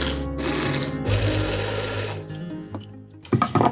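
A food processor whirs and chops bunya nuts and warrigal greens, motor buzzing loudly in bursts that stop and restart, with rattling as the blade works and a clatter near the end.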